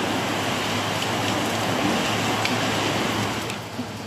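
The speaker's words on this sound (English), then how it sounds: "Talk about a rainstorm, huh?" Heavy rain of a rainstorm falling around an off-grid van build site, a dense, steady hiss that stays constant and fairly loud throughout, with no voices.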